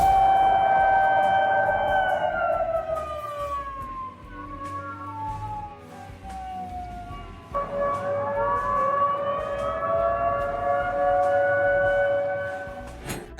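An air raid siren wails across the Krasnodar region, loud and sustained, its tones sliding downward, dipping briefly, then rising again and holding before a slight fade at the end.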